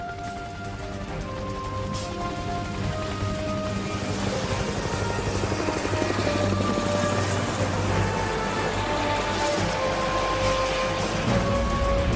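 A helicopter drones steadily for several seconds, rotor chop and engine whine forming a continuous roar at moderate distance.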